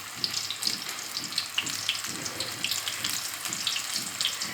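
Vegetable pakoras in batter sizzle and crackle steadily in hot oil, a dense continuous frying hiss with small pops throughout, close and moderately loud with no talking.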